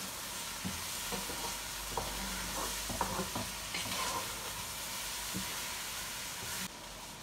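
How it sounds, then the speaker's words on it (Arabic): Rice is stirred and toasted in an oiled pot for biryani, with a constant soft sizzle and hiss broken by a few light scraping stirs close by. "اقلبهم شوية، احمس التمن همينة"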